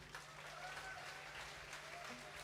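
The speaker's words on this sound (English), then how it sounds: "Please give them a round of applause." Audience applause at an Anindilyakwa community concert, a faint, steady patter of clapping running evenly throughout with a low hum beneath.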